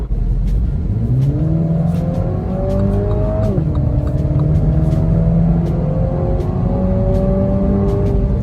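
A Mini Cooper S accelerates hard, its engine note climbing steadily, dropping sharply at a gear change and then rising again, loud and close with no talk.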